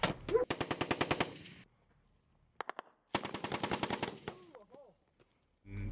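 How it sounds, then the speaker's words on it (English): Bursts of machine gun fire in a combat zone, two long rapid strings of sharp shots separated by a short pause, loud and close, with a few scattered single shots and brief distant voice-like sounds near the end. "they ended up starting to receive high volumes of machine gun fire"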